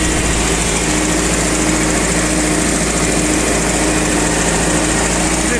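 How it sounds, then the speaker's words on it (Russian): Petrol-powered 1.8-tonne forklift with a carbureted engine, running steadily at a loud, even idle with a constant buzzing drone and no pauses. "Двигатель обычный, инжекторный."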